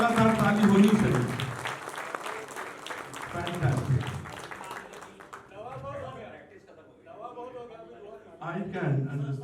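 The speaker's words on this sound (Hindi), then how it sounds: "एक आधे मिनट तो लगातार ताली होनी चाहिए।" An award ceremony audience breaks into loud sustained applause, then it thins as someone speaks and singing-like voice passages take over, with clapping swelling again near the end.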